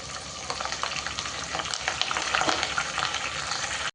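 Curry leaves dropped into hot oil as a tempering for drumstick pickle: a continuous, fairly close sizzle and crackle, steady throughout, with no talk.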